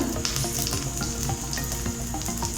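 Oil sizzles steadily on a balloon vine leaf dosa frying on a hot pan, a dense, loud, continuous crackle with small pops throughout and no voices.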